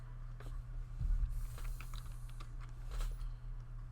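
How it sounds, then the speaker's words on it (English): Keys clatter on a computer keyboard as a search is typed, a short patter of quiet clicks close by over a low steady hum. "I'm literally just typing in a search."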